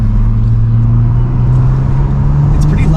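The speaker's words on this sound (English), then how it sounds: "the turbos sound really, really cool" A tuned Audi S5 Sportback with turbos cruises along, its engine a deep, steady drone heard from inside the cabin with a slight rise near the end, and people talk over it.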